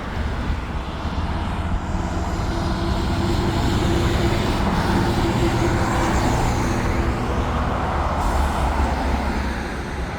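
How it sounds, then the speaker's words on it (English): A vehicle carrying a pipe pulls in close by with a loud, steady engine rumble and broadband roar that stays heavy for the whole stretch, with no talking. "we got a vehicle coming in with a pipe right here"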